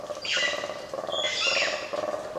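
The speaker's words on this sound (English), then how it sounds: "a chorus of birds at dusk in Mount Kenya National Park" Dense layered birdsong at dusk in Mount Kenya National Park, overlapping chirps and whistles, several birds calling at once in a steady outdoor chorus.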